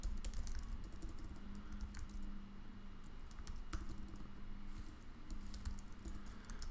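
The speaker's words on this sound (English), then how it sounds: "boy, typing." Steady, rapid clatter of typing on a computer keyboard during programming, keys clicking continuously with occasional louder strikes, close and alone with no speech.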